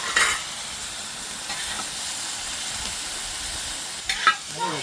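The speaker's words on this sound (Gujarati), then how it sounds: "હવે આમાં ટામેટા એડ કરો" Grated tomatoes go into onions frying until brown in a pan, a soft steady sizzle with a short scrape at the start and clinks and stirring bursts near the end.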